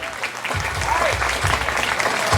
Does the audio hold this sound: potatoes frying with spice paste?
no